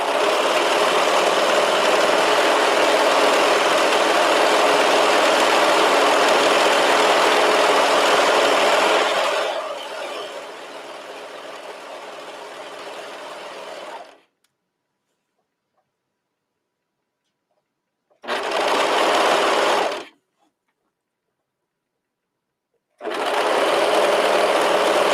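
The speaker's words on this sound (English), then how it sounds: "we're going to go right to the cover stitch and go ahead and do the hem" A cover stitch sewing machine hems a knit top, running loud and steady for about ten seconds, then more quietly until fourteen seconds, followed by silence and two short bursts of stitching.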